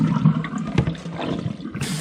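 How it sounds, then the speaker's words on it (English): Soaking water is poured off swollen soybeans soaked for homemade natto, a steady splashing, gushing pour heard close and alone for about two seconds. "So I'm going to discard this water."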